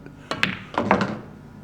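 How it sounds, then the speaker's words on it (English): Sharp wooden knocks of a pool cue striking the cue ball in a professional pool match, a deep screw shot into a yellow ball, come as a couple of close clacks followed by softer ball contacts, with faint room ambience. "We wanted to play deep screw shot into this yellow, really pull the cue ball back hard"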